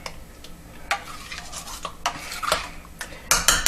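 A small spoon stirs Blue Hubbard squash soup in a pot, with irregular close clinks and scrapes against the metal over a quiet background.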